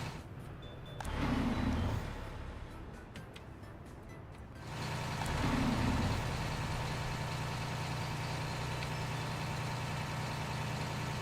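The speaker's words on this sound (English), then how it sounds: "that diesel truck noise is pretty obnoxious" A diesel truck idles with a steady low rumble that swells louder partway through and then holds level, continuous and fairly close.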